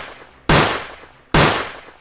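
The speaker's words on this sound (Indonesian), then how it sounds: "pelaku ternyata melepas 3 tembakan yang langsung bertubi-tubi mengenai dadanya Marty" Two loud, close handgun shots about a second apart, each a sharp blast trailing into a decaying echo.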